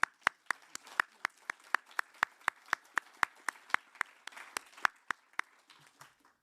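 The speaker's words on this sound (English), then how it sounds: "So please join me in applauding him." Applause at an environmental law colloquium comes as a thin run of sharp, evenly spaced claps, about four a second, fairly faint and from only a few pairs of hands.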